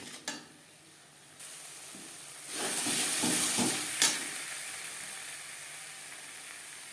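Fish in a pan with turmeric powder and salt, sizzling and hissing steadily as it is stirred, with a loud burst of frying and scraping in the middle before settling back to a softer sizzle.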